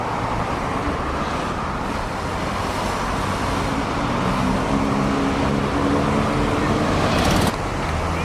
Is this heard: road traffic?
yes